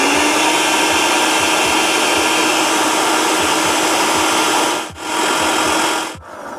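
A blender whirs continuously, mixing homemade mayonnaise made with apple cider vinegar, a loud close motor drone with a gritty rushing texture, briefly dipping twice near the end as it pauses, with no talk.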